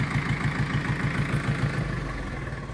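A Swaraj 855 tractor engine idling nearby, a steady low mechanical chug with a regular rapid pulsing beat, continuous and unchanging for a few seconds with no talk.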